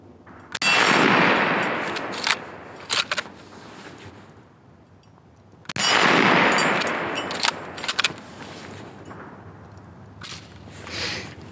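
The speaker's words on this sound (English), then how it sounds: "we'll shoot that metal plate" A Steyr Mannlicher Ultra Light rifle fires two loud, sharp shots outdoors, each followed by a long echoing boom. Metallic clangs from the struck steel plate ring out a moment later, and there is no talk.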